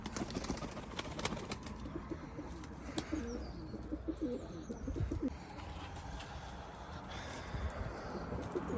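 Pigeons coo softly in a loft, with low repeated calls and a few faint chirps over a steady background murmur of the birds.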